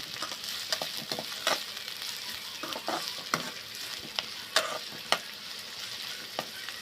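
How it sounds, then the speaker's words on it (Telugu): Curry leaves, sliced onions and green chillies fry in hot oil, a soft steady sizzle broken by frequent scraping clicks of a spoon stirring the pan, close and fairly quiet with no talking. "ఇప్పుడైతే ఈ కరివేపాకు, ఉల్లిపాయలు, పచ్చిమిరపకాయలు బాగా వేగనిచ్చుకున్నామండి."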